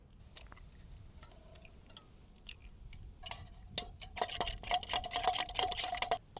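Scrambled eggs are stirred in a pot over a campfire: sparse scraping clicks at first, then denser, louder rapid scratching and tapping as the stirring speeds up.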